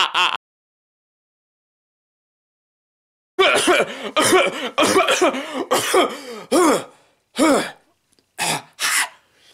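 A person coughs and clears their throat repeatedly, loud and close, in a rapid run of harsh bursts after a brief cough and a few seconds of silence.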